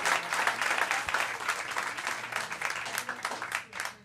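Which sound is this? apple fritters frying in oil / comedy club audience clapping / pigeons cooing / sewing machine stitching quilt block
comedy club audience clapping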